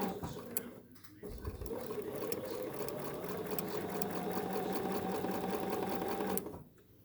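A Bernina sewing machine stitching fabric triangles runs in one steady, fast, whirring burst for about five seconds, close and loud, then stops.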